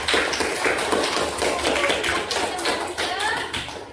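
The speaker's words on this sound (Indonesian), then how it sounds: "Silakan tepuk tangan untuk kelompok" A class applauds a student group with a dense, continuous patter of many hands clapping, close and fairly loud, tapering slightly toward the end.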